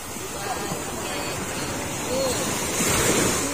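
Ocean surf at high tide washes onto the shore with a continuous broadband roar that swells louder near the end, mixed with wind noise and occasional distant voices.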